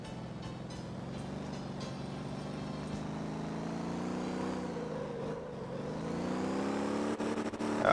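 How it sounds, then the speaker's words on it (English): A standard default car in the Motor Town driving game revs up toward the rev limiter, a steady engine drone swelling, dipping briefly, then climbing again with a final loud surge. "Got to hit the rev limiter."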